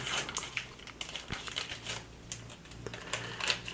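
Plastic packaging for screen protector accessories crinkles and tears in a run of scratchy rustles and sharp snaps, close and moderately loud, with no talking.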